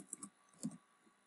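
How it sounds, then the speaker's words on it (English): A few quick key presses on a computer keyboard, two short bursts of faint clicking close by in a quiet indoor setting while searching a church database's People tab. "you can start typing in either the first letters"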